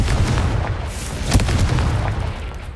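A Confringo blasting spell goes off in the Hogwarts Legacy video game, a loud, dense rumbling blast with a sharp burst near the middle that fills the whole moment without any voices.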